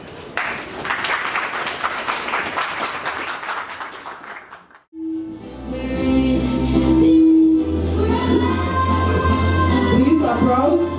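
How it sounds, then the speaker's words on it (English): Audience applause at a report launch event, dense steady clapping for about five seconds before cutting to other sound. "Please applause."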